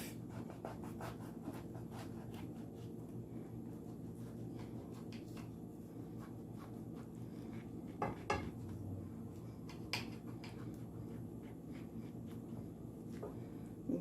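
A knife cutting an avocado sandwich in half, heard as soft scraping and rubbing with a few light clicks against a plate, quiet and close with no talking.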